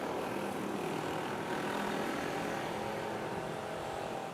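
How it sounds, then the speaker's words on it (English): An AirAsia airliner takes off on a night departure to Panglao, Bohol from Manila's NAIA airport, a steady broad jet roar that holds constant and fairly loud at a distance, with no voices. "As this Air Asia takes off to Panglao, Bohol."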